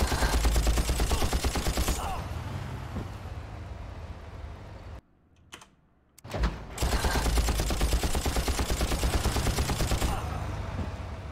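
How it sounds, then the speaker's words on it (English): Dense automatic gunfire rattles nonstop in the Far Cry video game, loud and close, cutting out abruptly for about a second before the burst resumes just as heavily. "How are none of these shots hitting anybody, bro?"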